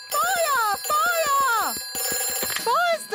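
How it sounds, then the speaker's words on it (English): A cartoon fire telephone rings with repeated bursts of a bright, warbling electronic tone broken by short gaps, loud and close throughout. "Ooh, a telephone. Peppa, that is the fire phone."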